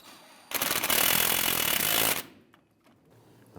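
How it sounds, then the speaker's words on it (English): Power tool, likely an impact driver, snugging up the rear shock bolt on a 2000-2006 Toyota Tundra: a loud, continuous rattling burst of about a second and a half, close by, then quiet shop background. "Let's go ahead and snug up this bolt."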